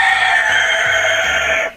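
A rooster crows close and loud in a single long, sustained call that cuts off sharply at the end.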